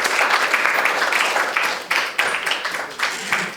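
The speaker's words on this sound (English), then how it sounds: "Let's give a warm round of applause for Declan Coles" An audience claps for a student poet at a high school poetry awards event, a moderate round of applause with uneven bursts and dips rather than a steady roar, fading and returning over a few seconds.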